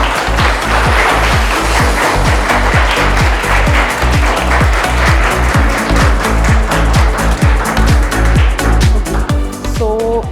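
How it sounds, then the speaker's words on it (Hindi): Audience clapping fills the whole stretch at an environmental awareness event featuring children's drawings on a green city, clean city theme, a steady dense patter running under rhythmic background music with a brief voice near the end. "तालियां बजती रहनी चाहिए"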